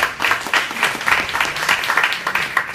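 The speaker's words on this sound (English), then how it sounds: "you can give yourselves a round of applause for that." Scattered, uneven applause from an audience at a mental health panel discussion, moderately loud and lasting under three seconds, with no talk over it.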